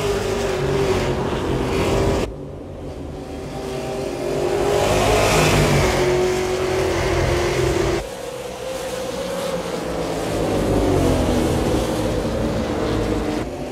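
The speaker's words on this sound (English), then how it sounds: "As the pace car pulls off, Joe Lawrence back on the gas." Race cars accelerating hard at Five Flags Speedway as the pace car pulls off, a loud continuous engine roar that rises and shifts in pitch as the pack passes, with no talking.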